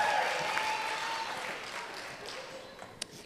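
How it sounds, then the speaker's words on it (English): Comedy club audience applauding during a stand-up set, a steady broadband clapping wash fading gradually over a few seconds, with a couple of sharp isolated claps near the end. "yeah, you can clap, all right."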